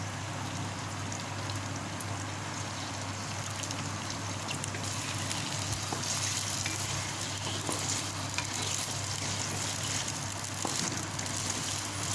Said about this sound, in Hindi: आलू को हमने फ्राई करना है।